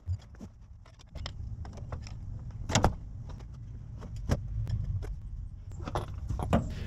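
A shorty pry bar levers a CV axle's inner joint out of a car transmission, giving sharp metallic clanks and knocks over a steady low background hum, close by and with no talking.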